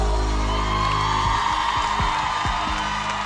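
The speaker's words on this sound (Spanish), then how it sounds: "Un aplauso muy grande para las manitos arriba" A large crowd at a live cumbia concert cheers, whoops and claps in one loud, continuous roar, with music and a few shouted calls rising through it.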